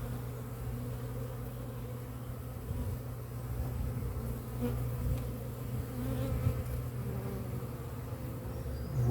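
Honeybees hum at a beehive entrance in February, a dense, continuous, fairly faint buzzing drone with individual bees passing now and then and no voices.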